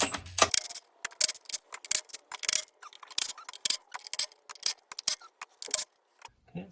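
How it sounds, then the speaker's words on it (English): 10mm intake plenum bolts on a Honda Pilot being removed with a ratchet, a close series of irregular sharp clicks and ticks with small metallic rattles and brief pauses. "next to start removing the bolts for this intake plenum"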